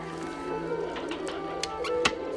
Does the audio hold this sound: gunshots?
no